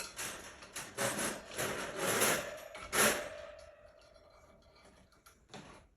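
A cage trap door being raised at a feral cat rescue, heard as several close scraping, sliding rubs of wood and metal in bursts, fading into quieter handling noises.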